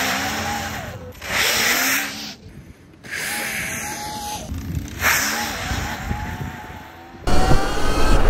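A 70 mph electric bike accelerates hard, its high motor whine rising in pitch with wind rush and bursts of loud noise, close and intense, broken by short quieter gaps.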